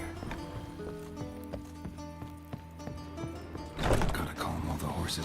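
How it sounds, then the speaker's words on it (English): Video game horses' hooves clip-clop in a steady rhythm with a brief whinny and snorting near the end, under game music and some talk. "Gotta calm all the horses before they wake the guards."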